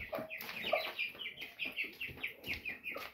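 Chickens cluck repeatedly in a quick, rhythmic series of short calls, close by, with a few rustling sounds underneath.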